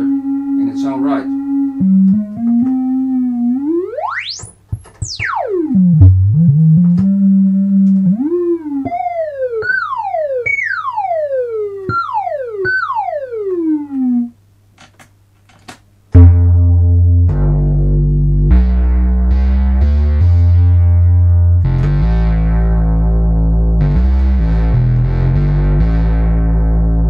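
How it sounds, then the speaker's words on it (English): Korg MS-20 synthesizer filter sweeping through a tone: gliding, whistling resonant sweeps and rising squeals, then a dense, buzzy distorted chordal drone that holds steady and loud to the end, with no talking. "Korg MS-20 filter. Sounds pretty awesome."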